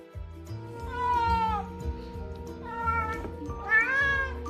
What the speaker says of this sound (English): meow sounds so much like a human baby